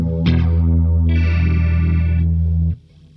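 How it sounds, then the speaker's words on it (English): An Ibanez GRX40 electric guitar with distortion rings out one heavy sustained chord for over two seconds, loud and close, then cuts off abruptly into quiet. "It's a very versatile guitar in terms of the sounds that you can get."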